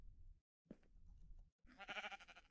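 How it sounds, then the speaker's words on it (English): A sheep bleats in a Minecraft horror map: a short muffled sound, a pause, then one louder, wavering bleat near the end, heard alone. "Yeah, I hear a sheep."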